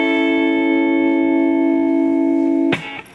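Electric guitar through a boosted compressor with reverb, playing one sustained ringing note that holds steady and loud for nearly three seconds before being cut off with a sharp scrape.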